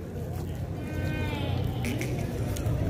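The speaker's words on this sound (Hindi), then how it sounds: "देसी बकरी है साहिवाल की।" Desi Sahiwal goat at a livestock market in Punjab, a wavering bleat rising over a busy crowd, with people talking nearby throughout.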